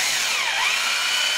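A power driver drives screws into a plasterboard fixing with a loud, close, continuous whine whose pitch dips briefly under load and then rises again.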